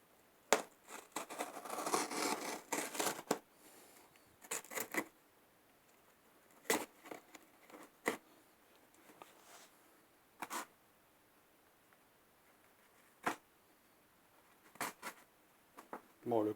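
Someone opens a parcel holding a NOCO GB40 1000-amp jump starter booster, with a burst of tearing and rustling cardboard and plastic followed by sharp, scattered clicks and rips at close range, with quiet gaps between them.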